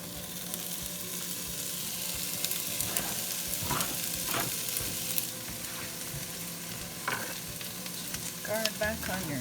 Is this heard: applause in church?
no